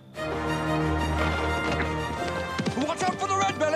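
Hooves clip-clop in an uneven trotting rhythm, close and fairly loud, with music or other sounds layered underneath.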